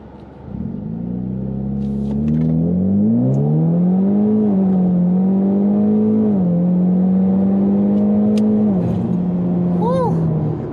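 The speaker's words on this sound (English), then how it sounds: "let's see if it actually helps with traction from a dig when launching this car" A drag car launches from a dig on over-inflated tires, its engine rumbling and climbing steadily in pitch through several gear shifts, loud and close throughout, with a brief high whine near the end.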